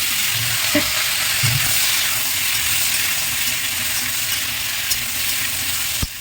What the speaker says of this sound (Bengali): এই তেলের পরে এই লঙ্কাটা দিয়ে দেবো তারপরে এই যে ওলটা কেটে দিয়েছিলাম এটা দিয়ে